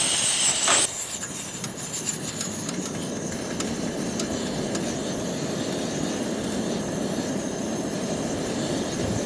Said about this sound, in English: That's the sound of the fuel being atomized.